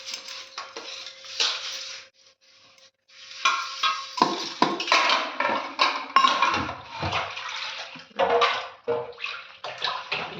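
Green gram being washed in water in a pot, with splashing and swishing, metallic clinks and scrapes of the pot, running water in bursts and a brief pause, close and fairly loud without talk.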